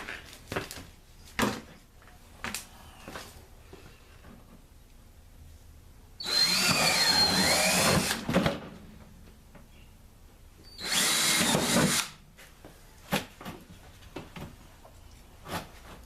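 A power drill runs on a sandblast box build, whirring loudly in two separate bursts of roughly two seconds each, with quieter clicks and handling knocks between them.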